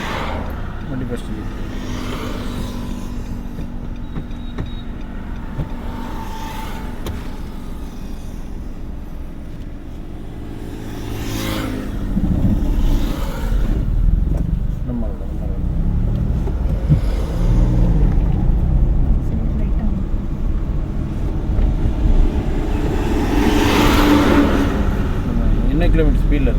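A car under instruction at a driving school moves slowly at a little over 20 km/h, its engine labouring with a steady low hum that swells louder partway through, with an instructor and learner talking over it.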